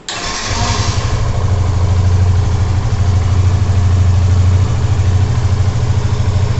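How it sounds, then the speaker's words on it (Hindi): A Yamaha FZ Fi motorcycle engine cranks and catches, then settles into a loud, steady, throbbing idle close by. "अभी ये बाइक राइड करने के लिए तैयार है तो चलिए स्टार्ट करके देखते हैं"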